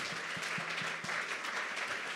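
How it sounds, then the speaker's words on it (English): Audience applause at a community pub talk, a dense, steady patter of many hands clapping at moderate distance, with a few louder individual claps standing out at the start. "So how about a round of applause for Scott and Tyrone?"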